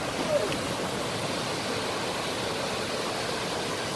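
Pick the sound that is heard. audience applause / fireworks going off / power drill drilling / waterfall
waterfall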